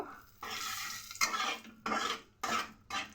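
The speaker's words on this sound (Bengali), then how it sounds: "এর মধ্যে গোটা গরম মশলা আর একটা শুকনো লঙ্কা আর এই তেজপাতা ফোড়নে দেব" Whole garam masala, a dried red chilli and a bay leaf dropped into hot oil in a pan, bursts of crackling sizzle that come and go in short stretches, with the scrape of a spoon stirring.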